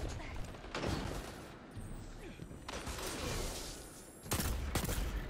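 Rapid hand cannon gunfire in the Destiny 2 video game, several loud bursts of shots with a crackling arc-weapon effect, heard close and dense throughout without any talking over it.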